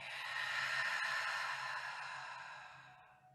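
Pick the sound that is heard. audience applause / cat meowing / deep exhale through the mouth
deep exhale through the mouth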